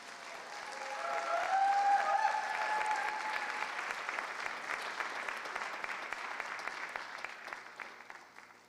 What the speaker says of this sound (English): Let's give another round of applause to Denise.